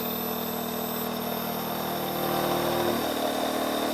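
A battery-powered electric motor hums steadily with a constant drone and high whine, continuing throughout; its pitch shifts slightly partway through as its revs drop under changing load.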